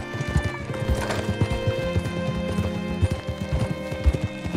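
Horse hooves clip-clopping at a gallop with a whinny, in the Red Dead Redemption 2 video game, a steady rhythmic beat of close, loud hoofbeats over game ambience with a neigh partway through.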